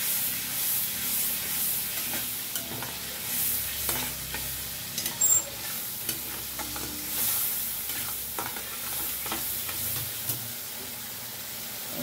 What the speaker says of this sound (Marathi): लाल मिरची आणि जिरा वाटून घेतला ते टाकून देणार आणि नंतर चांगले त्याला परतून घेणार